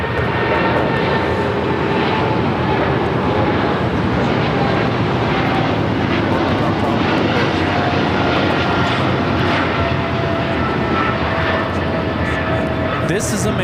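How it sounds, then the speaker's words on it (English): An American Airlines Boeing 777-300ER on its takeoff roll at LAX, bound for Miami, makes a loud, continuous engine roar that stays steady throughout, with a voice speaking faintly under the noise. "This is American Airlines 2765 taking off to Miami on the 777-300ER."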